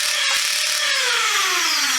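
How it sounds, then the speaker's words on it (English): Motor of a Nerf Double Impact dart blaster spinning its dual flywheels with a whirring, drill-like whine whose pitch slowly falls as it winds down; close, loud and steady, with no talking. "it even sounds like an impact drill"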